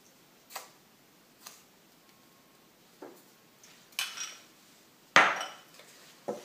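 All-purpose flour and salt being mixed in a bowl for bread rolls, heard as a few sparse, separate clicks and knocks of a utensil against the bowl, the last one louder, in a quiet kitchen.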